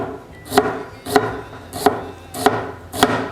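Knife chopping ginger on a cutting board while preparing beef-organ stir fry, five sharp, evenly spaced thuds about half a second apart, close and clear with no talking.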